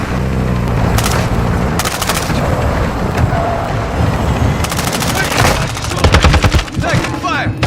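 Gunfire in the video game Warzone comes in dense, loud bursts of rapid automatic shots over a constant rumbling battlefield din, with sharper volleys clustering near the end and a voice talking faintly in the mix.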